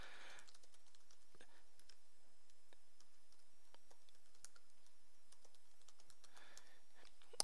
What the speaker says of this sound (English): type in the email address like so